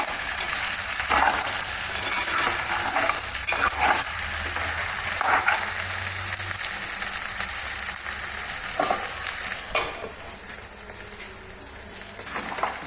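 Taro curry seasoned with chili, salt and turmeric sizzles steadily in a pan, a loud continuous frying hiss broken by occasional stirring scrapes.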